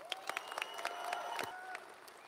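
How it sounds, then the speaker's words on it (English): Graduation ceremony audience applauding the top 10 seniors at Leroy Greene Academy High School, scattered sharp claps and crowd noise with a faint tone running beneath, fairly quiet and distant. "Let's give them a round of applause."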